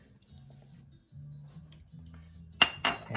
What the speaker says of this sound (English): we're going to take the salt and we're going to mix it in with the flour